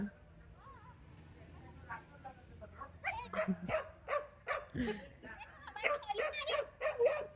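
A dog barks repeatedly at close range in sharp, rapid bursts, with yips and whimpers mixed in. Quiet talking comes before the barking starts.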